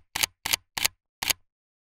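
Four crisp camera shutter clicks come in quick succession, loud and close, for a selfie on Koh Samui island in Thailand, with silence after the last one.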